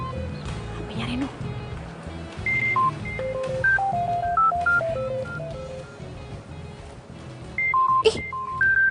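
A mobile phone dials with a quick run of bright keypad beeps at shifting pitches, then a second short burst later on, all playing over low background sound and murmured voices.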